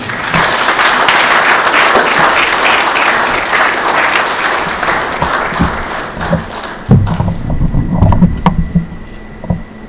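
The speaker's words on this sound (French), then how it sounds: "d'applaudir son arrivée" A crowd at a political gathering in the Nord province breaks into loud, sustained applause for a speaker's arrival, thinning out after about seven seconds into scattered claps, thumps and low voices.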